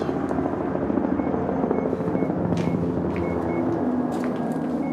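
A helicopter's steady rotor thrum fills the scene, a continuous low droning roar that stays fairly loud without fading much, with no talking.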